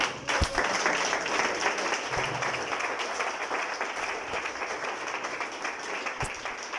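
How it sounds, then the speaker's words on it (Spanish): Congregation applauding inside a church service, a steady wash of clapping from many hands sustained throughout at moderate loudness, with a few sharper individual claps standing out. "den un fuerte aplauso al Señor"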